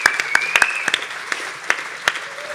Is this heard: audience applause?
yes